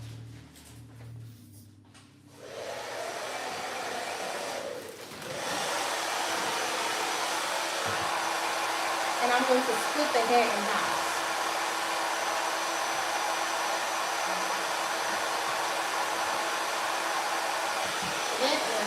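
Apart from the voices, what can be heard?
blow dryer blowing hair with nozzle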